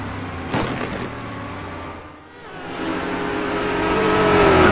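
A race car at a hillclimb rally in the 2-litre class roars past and then revs up again from a distance, engine note swelling louder toward the end, with no talk over it.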